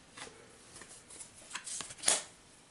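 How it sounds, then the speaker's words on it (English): Cards for a fantasy board game being drawn and handled close up, with quiet papery flicks and slides that build to a louder snap of cards near the end. "Let's go ahead and draw some loot cards"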